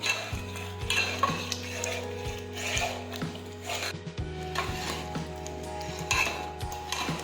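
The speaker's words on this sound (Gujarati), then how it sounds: "આ રીતે આપણે સાતળતા જઈશું." Vegetables for pav bhaji are sautéed and stirred in a pan with quiet, repeated scraping and rubbing strokes over a steady low hum, close by and without speech.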